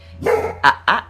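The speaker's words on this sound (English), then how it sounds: "Excuse my dog, please. He heard another dog outside barking." A dog barks indoors, reacting to another dog outside: a long first woof followed by two sharp, loud barks in quick succession, close to the microphone, with a steady low hum in the room.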